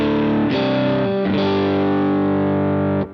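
Electric guitar through the Boutique amp model of a BOSS GX-100 multi-effects unit, with heavier gain: three sustained, overdriven chords struck in succession, loud and close, ringing out before a sudden stop.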